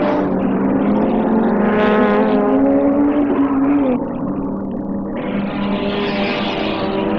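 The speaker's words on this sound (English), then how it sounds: "Cars going through at the end of 6 laps" Production cars racing at Mallala circuit in the 1989 championship roar past in a loud, sustained engine drone, pitch shifting as they go by, with no voices.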